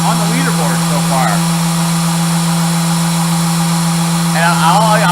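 Power sanding with a Wurth Net mesh sanding disc, a steady loud machine drone running throughout, with a person talking over it.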